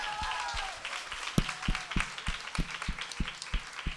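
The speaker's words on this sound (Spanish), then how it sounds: "Un aplauso para Luciana." Applause from an audience, with steady rhythmic clapping building after an initial scatter of claps.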